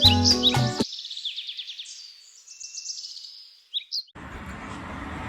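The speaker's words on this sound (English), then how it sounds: "I'm not sure what kind of bird these are, but there's a whole lot of them." A whole lot of birds chirping and calling along a roadside stop while bikepacking in Colombia or Ecuador, a dense high twittering chorus that thins out, with a few sharp louder chirps near the end over low background rumble.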